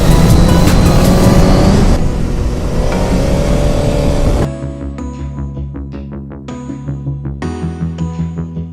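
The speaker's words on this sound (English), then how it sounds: "The GSX-R 1000R, and oh jeez, that throttle response." A Suzuki GSX-R 1000R sport motorcycle revs hard on a go-kart track, first as a loud sustained engine roar, then as a series of sharp rising throttle blips spaced about half a second apart.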